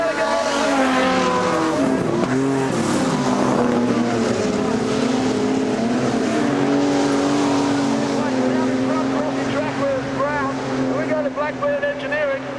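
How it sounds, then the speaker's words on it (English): Modified production race cars, including a big Ford Falcon, roar and slide around the dirt oval at Kingaroy Speedway, a steady loud engine drone with shifting revs, under continuous commentary. "Lewis and the Falcon slides up the inside of Greg Short."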